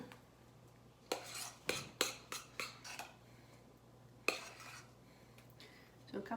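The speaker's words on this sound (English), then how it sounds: "I'm just going to start by putting a couple of spoonfuls on each one" A spoon clinks and scrapes against a pot as filling is spooned onto Vinaterta cake layers, a series of light, close metallic taps and scrapes over a low steady hum.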